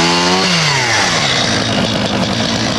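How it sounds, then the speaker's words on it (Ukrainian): A petrol chainsaw cuts through a Crimean pine being harvested as a New Year tree at an Odesa forestry, its engine revving loud and close, then holding a steady high whine as the chain bites through the trunk. "Рух бензопилою. Кілька секунд і кримська сосна вже готова до маркування."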